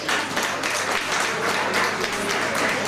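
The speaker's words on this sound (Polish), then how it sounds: "Wielkie brawa!" A live audience applauds at a jazz jam session concert, dense sustained clapping from many hands filling the room evenly for a few seconds.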